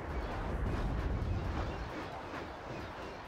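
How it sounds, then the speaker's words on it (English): Missile and artillery volleys exchanged in the strategy game Act of Aggression, a continuous rumbling wash of distant launches and blasts, fairly quiet and steady with no distinct individual shots. "Both sides firing volley after volley."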